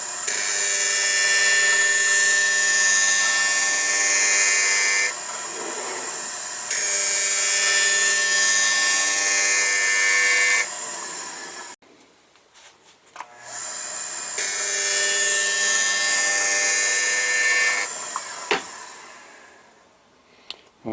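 An old Jackson Haines grinder sharpens a figure skate blade, giving loud, high, sustained whining runs of several seconds each, broken by short quiet gaps and a brief clatter.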